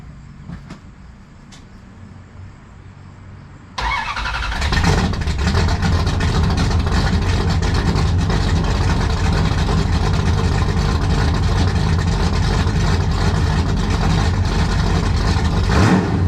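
A 1973 Dodge Dart V8 fitted with an H-pipe exhaust starts with a low idle rumble, then after a few seconds bursts into a loud, sustained rev and roar close by.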